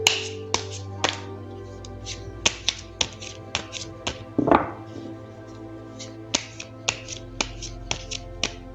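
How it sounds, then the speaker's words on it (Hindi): Tarot cards are shuffled in a series of crisp, separate snaps and taps, with one short riffling burst midway, close and alone without speech. "तो चलिए पहले ज़रा कार्ड्स को शफल कर लेते हैं।"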